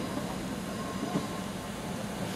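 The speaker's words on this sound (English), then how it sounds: "here comes the Steve Run train. It's moving." A train moves through Brighton station with a steady, fairly loud rumble and rolling wheel noise, continuous and even throughout.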